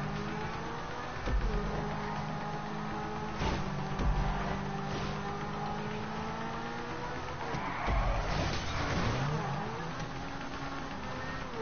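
Video game car engine droning and revving in a drift, with brief tire-skid bursts near the start and a louder swell toward the end, continuous and fairly close.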